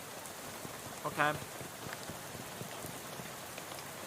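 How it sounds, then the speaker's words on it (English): Steady rain falls in the video game Shadows Over Loathing, a soft, even hiss that runs through the whole stretch, with a brief louder blip and a short spoken word over it. "You wouldn't make a dog walk 6 miles in this rain no matter how bad it wanted to."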